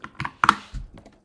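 Short typing bursts on a computer keyboard as a command is entered at a Windows prompt, several crisp clicky keystrokes in quick clusters, close and distinct with no talking.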